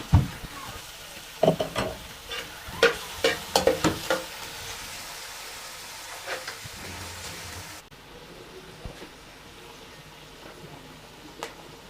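Chopped onion softens in two spoons of oil in a pan, a steady low sizzle under a run of sharp stirring clicks and scrapes over the first few seconds, then quieter frying.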